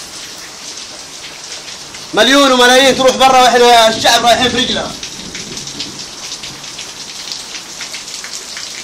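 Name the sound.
rain falling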